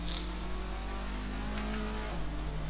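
A Dacia Logan's engine drones steadily inside the cabin on a Romanian racetrack, its pitch rising gradually as the car picks up speed, with no talking.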